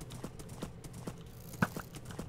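Horse hooves in the Minecraft game Hypixel UHC clip-clop in a quick, even rhythm, about a dozen light taps, with one louder clop near the end.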